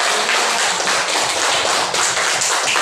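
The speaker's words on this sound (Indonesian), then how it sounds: "Tepuk tangan kelompok" A classroom group claps together, loud and close, in a dense, steady burst of hand claps lasting a few seconds with no voices on top.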